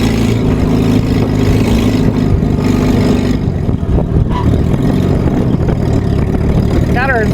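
A WWII jeep engine runs steadily at close range, its low rumble continuous as the driver works through the gears, with talk over the engine noise.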